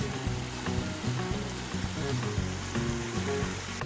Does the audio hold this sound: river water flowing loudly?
yes